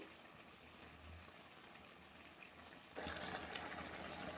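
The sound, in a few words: pouring second coconut milk into chicken curry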